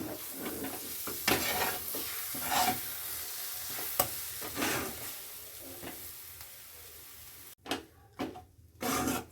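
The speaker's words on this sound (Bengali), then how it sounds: "স্বাদ অনুযায়ী চিনি এবার ভালো করে ভেজে নেব" A dhoka dal mixture with sugar being fried in a pan, giving a soft sizzle broken by repeated close scraping and stirring strokes, with a few louder knocks near the end.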